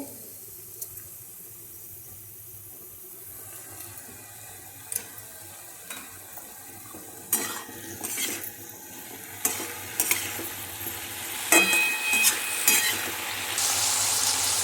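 Green chillies fry in a pan with a quiet, crackling sizzle, while intermittent stirring scrapes and clinks grow louder and busier toward the end.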